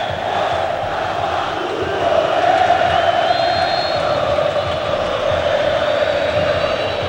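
Flamengo supporters fill the stadium during a 2002 Vasco versus Flamengo Torneio Rio-São Paulo match, their steady, dense roar rolling on without a break and swelling slightly midway.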